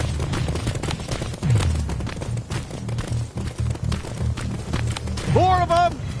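Gunfire crackles in the first-person shooter Terminator Resistance, rapid bursts and rattling volleys under a voice shouting in the battle.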